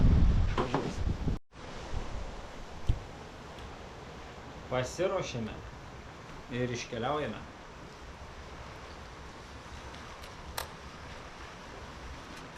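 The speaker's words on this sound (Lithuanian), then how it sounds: "Vėjas didelis." Strong wind buffets the microphone outdoors at a cycling camp in Sweden, a steady rushing roar with gusty bursts, while someone speaks briefly at the start and other voices come and go.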